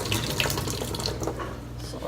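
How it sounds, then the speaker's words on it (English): Water pours and splashes out of a pot of cooked apples into a sink, a continuous close gushing trickle running steadily over about two seconds, with faint background noise. "you can just pour out like pretty much most of the water, except just like a little bit"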